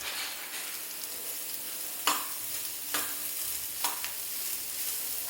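Crushed cauliflower cooking in a pan for low-carb upma, a soft steady sizzle broken by three distinct stirring scrapes against the pan.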